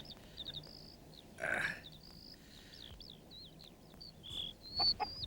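A hen perched in a tree clucks softly and intermittently amid outdoor bird calls, with a brief flurry of wing flapping as it flies off.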